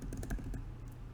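Rapid computer keyboard typing as text is entered in SolidWorks, with a quick burst of close, crisp keystrokes that then trail off into quiet, no talking.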